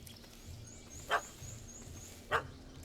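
In The Witcher 3, a dog gives two sharp barks about a second apart, moderately close, over a quiet ambient game background with a faint steady hum.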